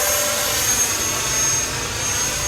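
An FMS Rafale 64mm electric ducted-fan RC jet flies under throttle, a loud, steady high-pitched whine and rushing roar that holds close and constant throughout with no pauses.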